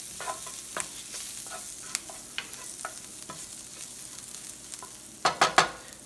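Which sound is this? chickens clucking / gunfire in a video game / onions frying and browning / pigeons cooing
onions frying and browning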